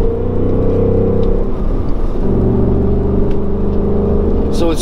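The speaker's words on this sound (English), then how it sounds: "it's still this monster V8, but in quiet mode it's definitely a lot more discreet" A V8 engine with an adjustable exhaust set to quiet mode idles with a steady, deep, muffled burble, its pitch dipping and rising slightly midway, heard close and loud.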